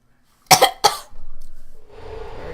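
A sick person coughs twice, close and loud, in quick succession, followed by a low rhythmic rumble and faint background hiss.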